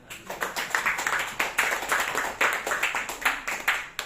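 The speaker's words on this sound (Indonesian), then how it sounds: "Tepuk tangan." An audience claps hands during a motivational talk, a moderately loud run of clustered claps that rises and falls in quick, fairly regular pulses for a few seconds.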